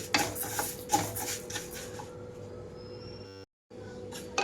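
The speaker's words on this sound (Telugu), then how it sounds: "ఇక్కడ మధ్య మధ్యలో కలుపుకుంటూ వేయించుకోవాలండి" Moong dal dry-roasting in a pan over a low flame while being stirred now and then, a close scraping rustle with rasping strokes that thins out and briefly cuts to silence before resuming.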